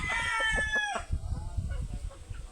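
A fighting rooster in Sto. Domingo, Irosin, Sorsogon, crows once loudly and close, the call trailing off into softer clucking and a faint murmur of background noise.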